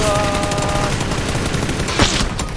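Rapid automatic gunfire in the video game PUBG, arcade mode: dense, continuous bursts of shots fill the whole stretch, with one louder, sharper crack standing out near the end.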